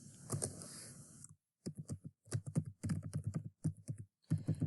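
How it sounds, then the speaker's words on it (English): Rapid bursts of typing on a computer keyboard, close and clear, with short pauses between clusters of key clicks and no talking. "Please note, as you type in the text, these columns will automatically expand to allow room."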